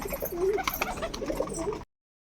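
Domestic pigeons coo in soft, rolling low calls close by, several overlapping phrases for under two seconds before the sound cuts to silence.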